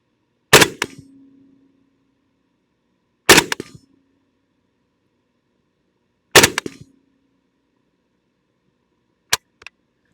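AK-47 rifle shots are fired from the prone position at 100 yards outdoors: three loud, sharp cracks spaced about three seconds apart, each with a short echo tail, then a fainter fourth report.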